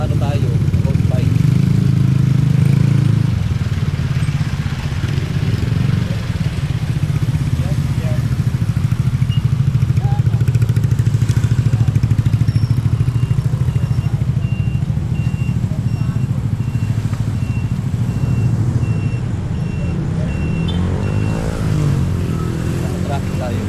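Dense road traffic surrounds a road-bike rider, with motorcycle and car engines rumbling close and loud, a steady low drone, and reversing beeps sounding faintly in the background.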